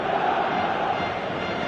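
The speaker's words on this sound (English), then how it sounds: "Crowd appreciates good football all round there." Steady roar of a football stadium crowd in a PlayStation 4 soccer video game, a dense continuous wash of cheering voices at even loudness throughout.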